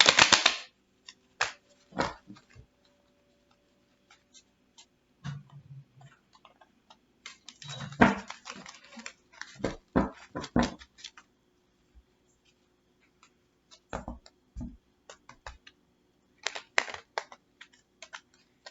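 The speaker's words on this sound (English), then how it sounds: "So I'm going to do 5 shuffles." Quick bursts of crisp riffling and tapping from cards being shuffled, repeated several times with short pauses between, close and fairly quiet.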